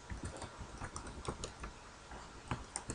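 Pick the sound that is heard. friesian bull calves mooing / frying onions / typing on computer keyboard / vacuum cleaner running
typing on computer keyboard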